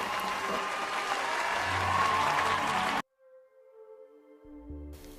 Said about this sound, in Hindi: तो इनके लिए तालियां हो जाए